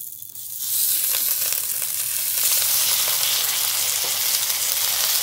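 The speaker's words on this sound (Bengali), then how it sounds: "পাতুরি ভাজা হতে থাক" Koi fish paturi fries in a pan, a near, loud, continuous sizzle that swells in after a quiet start and holds steady without any talk.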